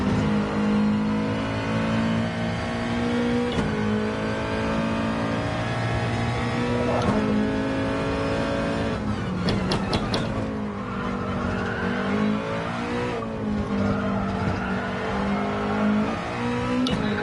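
A rally car engine in a video game set in Alsace revs hard and steadily, its pitch rising and falling through repeated downshifts with brief throttle blips, loud and continuous with faint tire scrabble.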